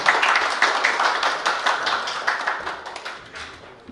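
Audience at a Korean industry forum on energy transition claps to welcome a lecturer, brisk close clapping that starts full and steadily fades away over a few seconds.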